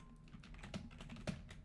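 Computer keyboard typing with a loud, clicky board, a quick run of keystrokes close to the microphone with one sharper strike near the end, no voices.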